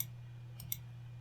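A computer mouse gives two quick, faint clicks close together in a quiet room, with a low electrical hum underneath.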